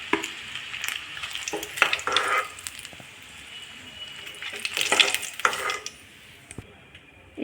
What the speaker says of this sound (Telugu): గుడ్లు వేయించుకుంటా దాంట్లో